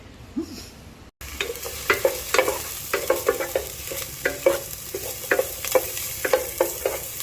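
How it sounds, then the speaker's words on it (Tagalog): Garlic, onion and ginger sauté in a pan, starting after a brief quiet moment with a loud, close sizzle and repeated scraping stirs at an irregular rhythm; no one speaks. "ginisa na natin yung bawang, sibuyas at luya"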